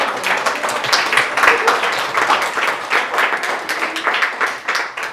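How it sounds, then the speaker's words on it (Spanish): A church congregation claps and applauds steadily for several seconds. The many hands sound dense and lively, with a loose rhythm and no one speaking over them. "¿Le dan un buen aplauso al Señor porque Él es bueno?"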